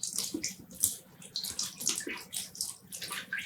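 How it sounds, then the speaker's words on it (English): Close, wet squishing and splattering as excess water is squeezed out of dyed yarn, with irregular bursts of dripping and trickling. "Squeezing out excess water."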